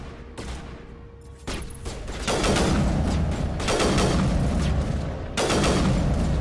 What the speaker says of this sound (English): This is a interesting sniper rifle.